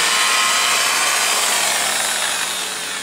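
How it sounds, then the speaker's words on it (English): A car paint buffer runs lightly back and forth over a painted auto body panel at about 1200 to 1400 RPM, giving a steady, broadband whirring rub, close and continuous, that eases slightly toward the end. "I'll take my buffer and just start back and forth"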